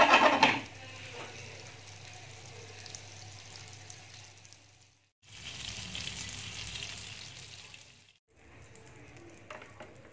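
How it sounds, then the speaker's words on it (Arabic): Butter sizzling in a hot pan on a stovetop burner, a steady, close frying hiss that breaks off twice briefly before resuming. "فوق البوطه دايره مقله كتسخن، غادي ندير فيها زبيده وغادي نحطهم باش فحال غير غادي يتحمر"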